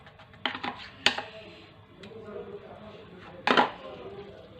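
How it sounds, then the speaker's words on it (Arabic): Ingredients being mixed in a bowl for a homemade western Algerian sweet, with a few sharp clinks and scrapes of a utensil against the bowl, two louder knocks standing out over quiet kitchen background. "نخلط هاد المكونات."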